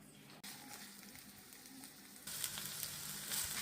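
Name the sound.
vegetables frying in olive oil in a hot pan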